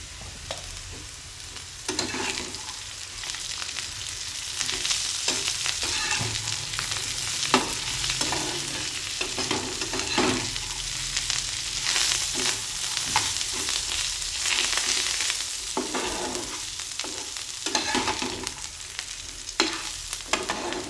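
Fresh green pigeon peas roast for Vidarbha-style kharda with coriander and curry leaves, crackling and sizzling steadily close by as a spatula scrapes and stirs the pan at irregular intervals.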